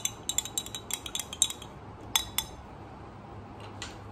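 A spoon stirs a glass of cold water, apple cider vinegar and black salt, making a quick burst of bright clinks against the glass, a short pause, two more taps, then faint scraping.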